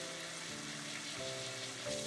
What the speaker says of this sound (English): You could always do the second one as the first one is frying.